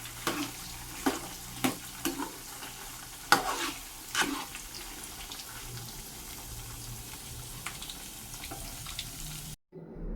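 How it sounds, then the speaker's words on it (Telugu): Maida-coated marinated chicken pieces frying in oil give a continuous soft sizzle, broken early by several sharp crackles and stirring clatters before settling into a steadier bubbling hiss that cuts off abruptly near the end. "అన్నీ పట్టించి తర్వాత ఆయిల్లో ఫ్రై చేసుకోవాలి"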